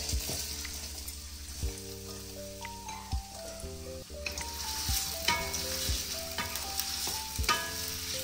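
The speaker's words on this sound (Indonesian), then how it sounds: "Yang ni kita hanya goreng dia punya bawang." Onions sizzle steadily in a frying pan for mee goreng, with a spatula stirring and occasional clinks against the pan over a soft continuous crackle.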